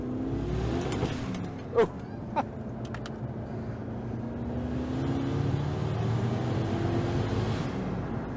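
A Ford Focus with a 1UZ V8 engine drones steadily with a low rumble that builds gradually in intensity as it accelerates, a brief exclamation and a couple of sharp clicks near the start.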